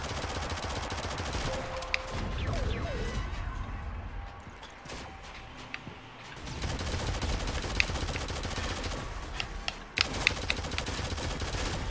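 Shotgun fire and other gunfire in a Shadowgun Legends team PvP match. Sharp shots crack in bursts among mechanical clatter, with a quieter lull in the middle before the shooting picks back up.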